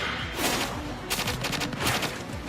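Gunfire in an anime shootout between groups of students, loud rapid bursts of shots in two clusters with brief gaps, close and dominant, no talking.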